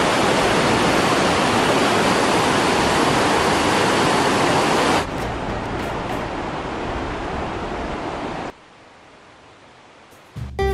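Iguazu Falls in Argentina roars with a dense, loud rush of falling water that abruptly drops to a softer level partway through, then falls to near quiet before a brief final burst.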